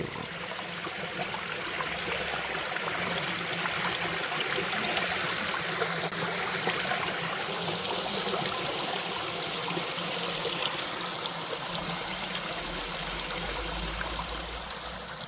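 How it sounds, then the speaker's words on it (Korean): Water flows steadily in a nearby stream beside a country house, a soft continuous rushing and trickling with no voices, fairly quiet and even from start to finish. "아이고, 물소리 좋습니다."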